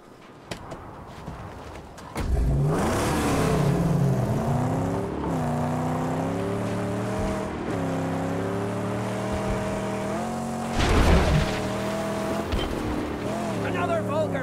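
Car engine in the Mad Max video game revving and driving, a steady loud drone with rising and falling pitch sweeps as it accelerates, with a brief louder burst partway through and game voices under it.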